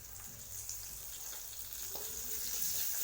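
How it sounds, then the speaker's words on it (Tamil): Curry leaves sauté in hot oil with asafoetida, giving a soft, steady sizzling hiss with a few faint stirring touches, quiet and continuous without talk. "கருவேப்பிலையே லேசாக வதக்கிக்கலாம்."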